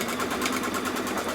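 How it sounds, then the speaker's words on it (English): An embroidery machine stitches a quilting design on fabric, giving a fast, steady mechanical whirring chatter with rhythmic needle pulses, moderately loud and close, with no voices. "And now it's going to stitch the tack down, and then it'll just go and we'll start it and stitch the quilting."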